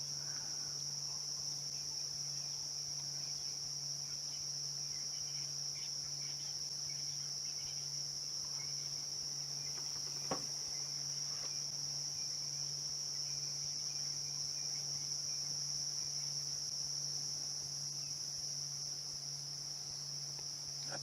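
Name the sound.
cicadas chirping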